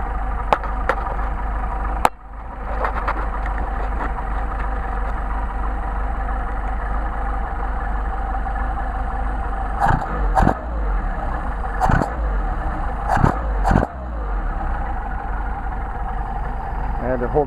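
Carbureted Mercedes 190SL engine revving and accelerating up close, a steady mechanical drone broken by several sharp throttle blips and bursts, with a brief dip early on.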